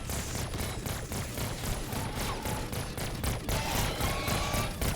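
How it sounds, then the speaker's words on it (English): Rapid automatic gunfire from a weapon with a rapid-fire attachment in Black Ops 6 Zombies, a dense continuous stream of shots blending into a steady roar across the whole stretch, with game effects layered over it. "we're shooting so fast"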